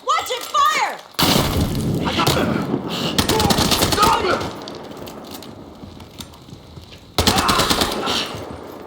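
Rapid automatic gunfire in Battlefield Hardline on PC, loud and close, with bursts separated by short pauses and a voice speaking over part of it.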